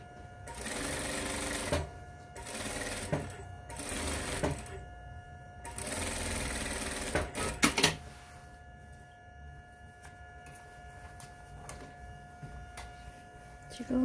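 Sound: sewing machine stitching fabric dart bag

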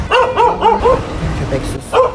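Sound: dog barking

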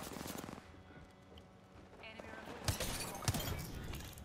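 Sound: gunshots in video game Apex Legends

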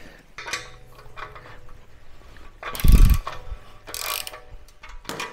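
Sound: wrench unscrewing a bolt on a Himalayan 410 motorcycle

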